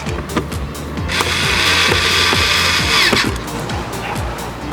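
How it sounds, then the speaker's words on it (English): A power drill drives screws into the radio mount of a Toyota FJ Cruiser during an Android head unit install, with one steady whirring run in the middle between short bursts of clicks and handling noise, close up. "now we can go ahead and put our 2 screws on the bottom"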